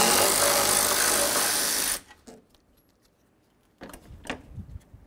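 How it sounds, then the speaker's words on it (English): Radiator mounting bolts being removed on a 2002-08 Dodge Ram: a loud, steady tool whir for two seconds, then quiet, followed by a few sharp metallic clicks and rattles close by. "Now we're going to move along to starting to remove our radiator mounting bolts."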